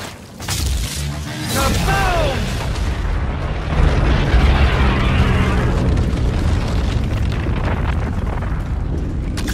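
An explosion in a video game booms loudly and rolls on as a dense, sustained rumbling blast, with a brief voice-like sound near the start.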